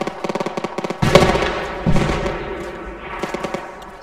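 Gunfire in the ArmA 3 military game: rapid bursts of close automatic fire open the clip, a heavy boom breaks in, and more shots echo afterward, all loud and sharp.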